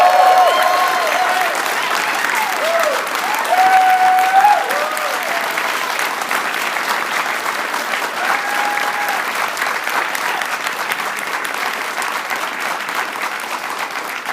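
A conference audience at a Students for Liberty international gathering applauds, a dense, sustained clapping that fills the room evenly from start to finish and barely fades, with a few voices and cheers blending into it.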